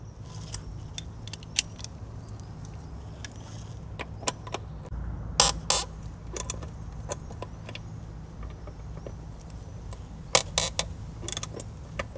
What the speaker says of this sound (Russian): и выкрутить 4 болта. Болты здесь идут под головку на 10.